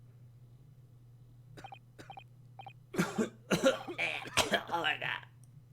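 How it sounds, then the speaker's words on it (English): A person coughs repeatedly in a harsh, wet fit, loud and close, with a few short tonal beeps before the coughing and a steady low hum underneath. "Sometimes you have a fucking coughing fit."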